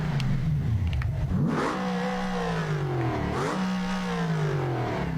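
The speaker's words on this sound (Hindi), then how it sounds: "गाड़ी का इंजन काम कर रहा है नो डाउट, बट वो इंजन टायर को पावर नहीं दे रहा" A video game car engine revs repeatedly while its broken gearbox leaves the tyres without power, giving a loud, close, mid-pitched drone that rises and falls in several sweeping surges with some clattering.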